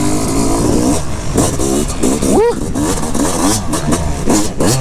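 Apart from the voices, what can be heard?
Fantic motorcycle revving with FMF exhaust silencer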